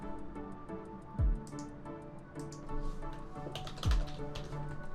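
Keys clatter steadily on a computer keyboard during software work setting up a unit field, a close run of quick clicks with a couple of heavier thumps, no talking over it.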